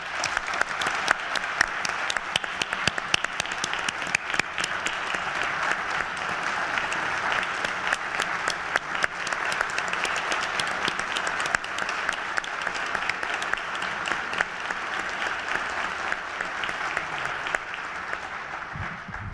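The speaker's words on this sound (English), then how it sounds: "Would you please join me in a round of applause in appreciation for 57 years" Sustained applause from a town meeting audience, a dense wash of clapping that holds steady for about twenty seconds before easing slightly at the end, with no talk over it.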